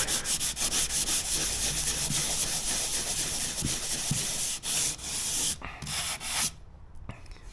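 Hand sanding of sandy skim finish filler: a continuous close scratchy rubbing that keeps up for several seconds, then breaks into a few shorter strokes and stops, with no talk.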